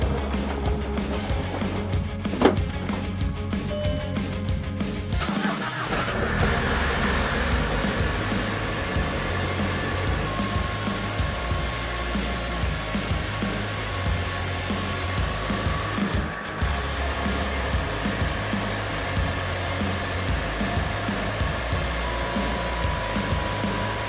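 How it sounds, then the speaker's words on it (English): A rattly diesel engine runs in a Seat Ibiza after a radiator replacement, a loud, steady, noisy drone with no talk over it, broken by a brief sharp clatter early on. "I was going to talk over the noise of the engine there, but it was far too noisy and rattly, as diesels are in these cars"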